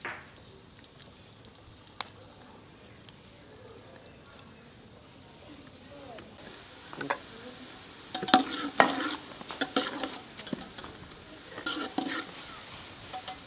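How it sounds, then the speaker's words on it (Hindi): Finely chopped onions added to hot oil in a pan for vegetable pulao: a quiet stretch, then scattered sizzling crackles and spatula stirring scrapes, close and moderately loud, with no talk. "2 बारीक कटे हुए प्याज हैं मेरे पास, ये इसमें शामिल कर लेंगे। प्याज को सुनहरा होने देंगे।"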